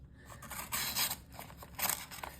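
A freshly built knife blade slices through a small sheet of paper, a few quiet crisp rasping cuts in short bursts, close and faint.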